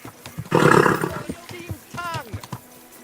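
A horse in the medieval video game Kingdom Come: Deliverance 2 snorts and roars loudly in a short burst up close, followed by softer hoof and tack noises while someone talks.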